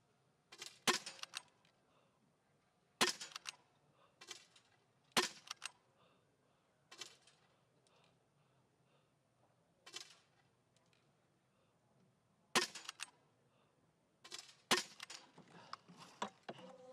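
Small-bore rifle shots ring out on the sitting-class shooting range at the Beijing 2022 para biathlon 10 km. Sharp, isolated cracks come a few seconds apart, moderately faint, over a quiet background.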